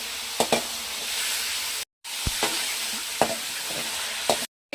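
Chicken pieces fry in hot oil for Andhra-style Mughlai chicken curry, a steady close sizzle broken by a few sharp stir clatters and two brief dropouts to silence.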